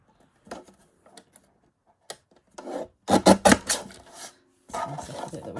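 Paper is trimmed by hand for a tag, heard as short, close rasping cuts and rustles in uneven bursts separated by quiet pauses, with the busiest run of cutting near the middle.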